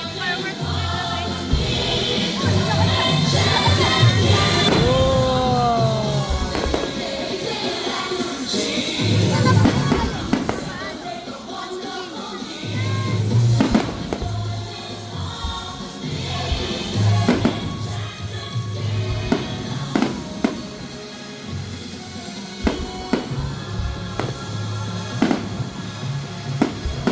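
Fireworks burst at a birthday celebration in the Philippines: irregular booming thuds and crackling pops come in clusters over steady crowd noise, with whistling rising trails and occasional voices throughout.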